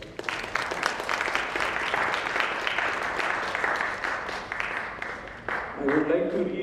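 An audience at a society's foundation day ceremony applauds medal winners, with steady, moderately loud clapping that fades slightly near the end as a voice begins to speak.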